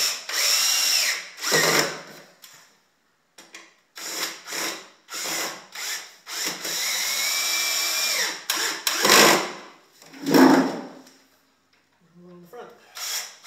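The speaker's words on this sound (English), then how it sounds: "There's no particular order for putting in the screws." A power drill drives screws into a cedar Bloomfield Flats chair during assembly, with a few whirring bursts of rising pitch and a sustained run in the middle, separated by short pauses and handling sounds, close and fairly loud.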